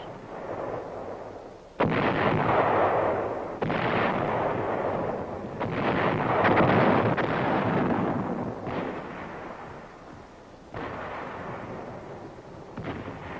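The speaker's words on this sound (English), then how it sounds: "Artillery and mortar fires supported the advance." Artillery and mortar fire booms out in a run of heavy, rolling blasts, each a loud deep thud that swells and fades into the next across a sustained barrage with no talking.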